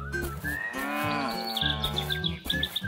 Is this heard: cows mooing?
yes